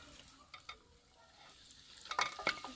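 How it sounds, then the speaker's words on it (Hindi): Milk-mixed semolina for makhadi halwa is stirred in a pan, faint scraping at first, then a few sharper, louder scrapes and bubbling sizzle near the end. "अभी हम इसको मिक्स करते जाएंगे।"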